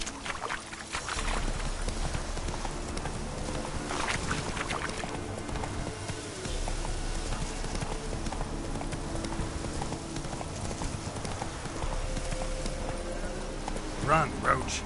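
A horse gallops in The Witcher video game with a steady, rapid clip-clop of hooves that runs loud and continuous throughout, under a rushing movement backdrop.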